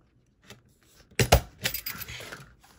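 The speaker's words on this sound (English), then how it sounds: "let me get this stapled again because I want to make sure I'm right on that crease, right on the fold" A stapler clamps down on the fold of mini album pages, giving a sharp metallic crunch followed by softer paper-handling rustles and small clicks close by.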